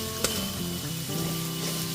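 Spice paste for a Bhola fish curry frying in oil in a pan, a steady close sizzle with soft bubbling and a brief scrape near the start.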